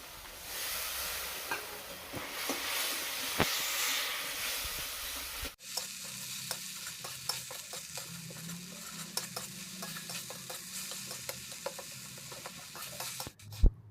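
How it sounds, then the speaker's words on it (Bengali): Ground spices such as coriander, cumin, turmeric and chili are stir-fried in a pan over a wood fire in a village kitchen, giving a steady sizzle with frequent scraping stirs. The hiss drops and changes partway through and is followed by lighter clicks. "এবারে মশলাটাকে খুব ভালো করে কষিয়ে নিচ্ছে"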